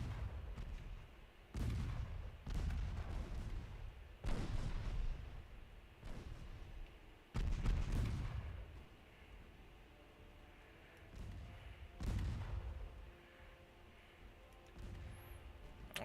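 Naval gunfire from 4.5-inch Mark II guns in the Ultimate Admiral Dreadnoughts naval battle game: about seven heavy booming shots at irregular intervals, each with a rolling low tail, over a steady background rumble with no talking.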